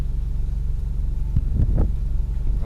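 Ford Mustang EcoBoost exhaust heard from inside the car with the windows down: a steady low engine drone with rumbling wind buffeting and a couple of brief louder bursts, close and continuous.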